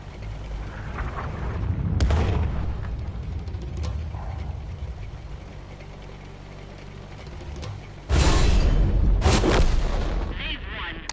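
Artillery fire in World of Tanks: a few heavy booming shots, one around two seconds in and a louder pair near the end, over a low rumbling battle background with faint talk.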